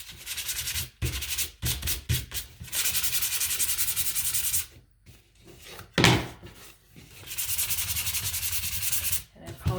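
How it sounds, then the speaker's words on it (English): Wood is sanded by hand along the grain for an interchangeable skateboard truck project, with long rasping back-and-forth strokes broken by short pauses and one knock, close and fairly loud. "So sand in the direction of the grain"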